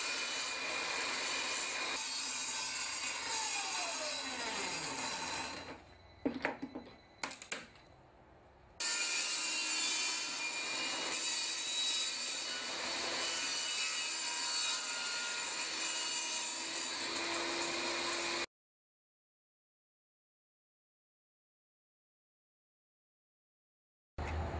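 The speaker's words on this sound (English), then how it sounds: "I'm going to circle cut some plexiglass and use that for my end cap to hold the pipe in place" Plexiglass is circle-cut to make an end cap for a PVC pipe, giving a steady, close, rasping cutting sound with a few brief pauses and knocks, then silence near the end.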